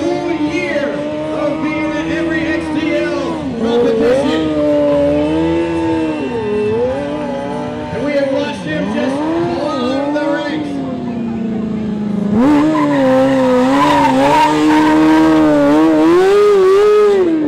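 Freestyle motocross motorcycle engine revving during a competition run, a loud, continuous engine drone that rises and falls in pitch as the throttle opens and closes, with an announcer talking over it.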